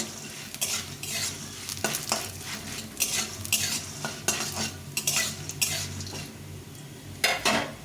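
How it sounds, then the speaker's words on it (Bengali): Bori lentil dumplings frying in a pan make a steady sizzle broken up by repeated sharp scrapes and clinks of a spatula against the metal, close up, with no voices. "এর মধ্যে এখন বড়িগুলো ভেজে নেব লাল লাল করে বড়িগুলো ভেজে নেব"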